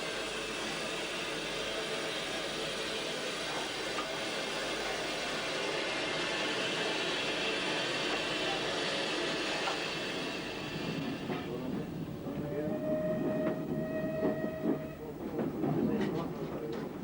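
A train on the Bluebell Railway runs past in a continuous loud rumble and roar that lasts several seconds, then gives way to squeals and clanks, with a voice speaking over the noise.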